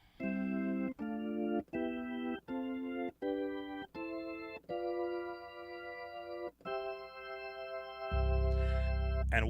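Hammond B3 organ sounding a sequence of sustained gospel chord inversions, each chord held about a second with brief gaps between, ending on a longer chord over a low bass swell; no talking.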